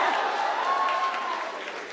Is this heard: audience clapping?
yes